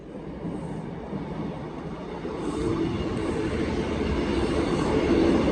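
East Midlands Railway diesel unit 156405, running from Newark Northgate to Peterborough, pulls into the platform beside the Lincoln High Street level crossing. It makes a steady low rumble and hiss that builds gradually as it draws near, with no talking.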